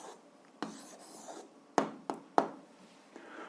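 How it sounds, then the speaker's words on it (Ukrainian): A pen writes an answer on paper in an algebra lesson: a few short, faint scratching strokes with pauses between them, close and quiet, no talk. "Ну що ж, записуємо відповідь, пишемо відповідь."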